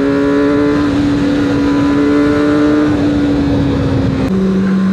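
A Yamaha R1 motorcycle at full throttle in a Tokyo tunnel, a loud, sustained high-pitched engine wail holding steady before a brief dip and a shift, close and alone with no talking.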